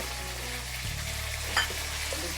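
Onion and tomato sautéing in a pan for a home-style onion and okra curry, giving a steady close sizzle with a brief scrape or stir partway through, no talking.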